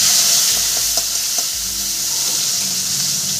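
A small tomato dropped into hot oil with nigella seeds and slit green chillies, a steady close sizzle and fry with light stirring taps, no voices.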